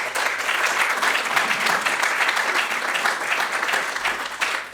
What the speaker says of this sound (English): Can we give Jamie a round of applause, please?